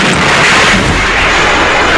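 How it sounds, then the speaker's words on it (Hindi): A remote-detonated bomb explodes in a Bollywood movie scene, a loud, dense, continuous rumbling blast that fills the whole clip with heavy low booms and crackling debris and no voices. "जैसे ही वो उसे दबाते हैं तो हो जाता है विस्फोट"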